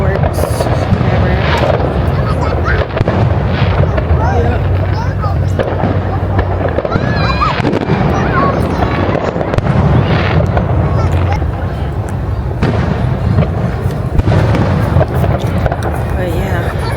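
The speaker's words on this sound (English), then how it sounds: "Yeah, we're watching the fireworks," Fireworks booming during a summer beach vacation, a continuous rumble of deep bursts and crackles at moderate distance, with people talking over the explosions.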